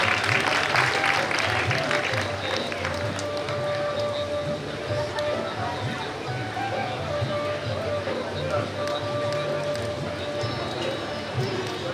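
An audience at a community award ceremony for students, the Saraswati Sanman Samaroh, gives sustained applause that blends into a dense crowd wash, with voices heard alongside.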